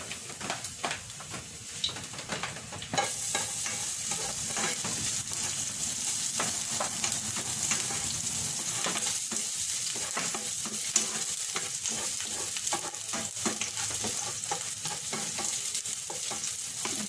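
Garlic frying in a pan: a steady, fairly loud sizzle with scattered pops and stirring scrapes that jumps up when the garlic hits the oil, no voices.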